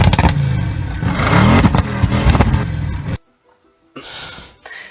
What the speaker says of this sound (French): on a donc le son de moteur de voiture